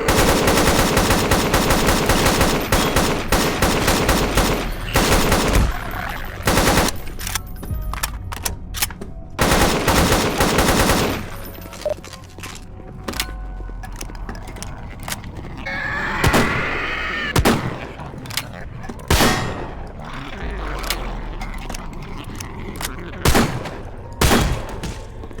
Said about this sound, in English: right and left click fire the barrels independently, of course